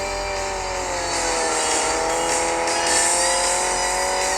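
A car engine in a driving video game drones at a steady high pitch, sliding with slight pitch wavers and faint scraping, loud and continuous throughout.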